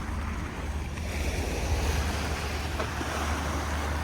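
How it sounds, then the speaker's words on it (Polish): Water sloshes and splashes in a constant wash, with a low engine hum underneath and no voices. "Ale fale zrobił. Uu, Zrobił fale, że koniec."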